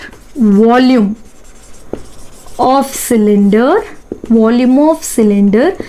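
Chalk or marker strokes scratch across a board as a formula is written, short scraping bursts interleaved with a teacher's speech.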